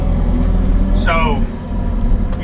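A Kubota 75-3 skid steer shifts dirty base rock, its engine giving a loud, close, steady rumble throughout, with a brief rising whine or voice-like tone near the middle.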